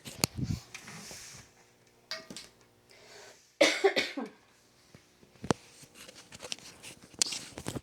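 A single sharp cough stands out, with a few quieter throat noises and small clicks around it, close to the microphone.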